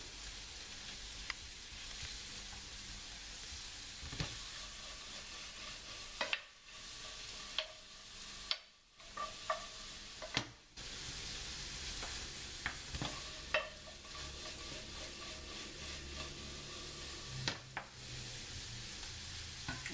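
Butter melting in a pan for a homemade mushroom sauce, giving a steady, dense crackling sizzle that holds through the whole stretch, broken by a few brief dips and light clinks, close and without speech.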